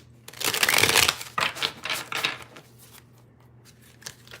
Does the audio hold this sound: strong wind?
no